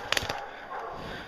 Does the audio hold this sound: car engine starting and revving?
no